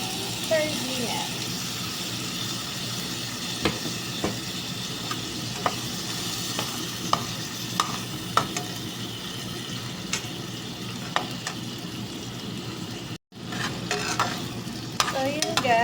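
Sardines frying in a pan, a constant close sizzle broken by repeated scrapes and clinks of a utensil stirring, with a brief cut in the sound near the end.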